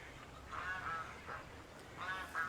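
Domestic ducks call in a few short, honking quacks in two brief bursts, faint and somewhat distant against a quiet outdoor background.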